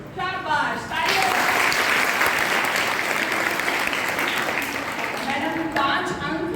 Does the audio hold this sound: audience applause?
yes